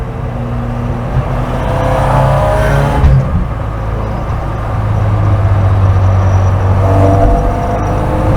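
Opel Manta B2 16v with a limited-slip differential, driven hard on a road: a loud, steady engine drone that rises and swells as it revs, with a brief dip around the three-second mark, close and continuous with no talk.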